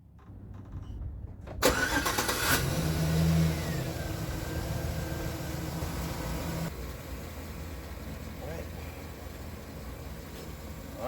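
After a quiet start, a Suzuki GS750 motorcycle engine abruptly cranks and catches, rising briefly in a rev before settling into a steady running rumble.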